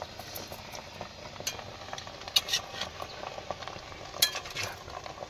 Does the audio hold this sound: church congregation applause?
no